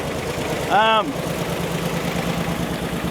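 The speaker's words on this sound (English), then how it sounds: "Now the engine's bouncing again." A 1964 Chevrolet Impala wagon engine idles with an uneven, lumpy rumble close by, running roughly, broken briefly by a short rising whine near the start.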